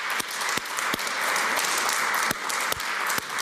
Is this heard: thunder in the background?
no